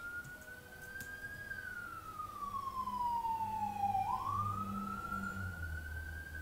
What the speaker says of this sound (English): that was emergency sirens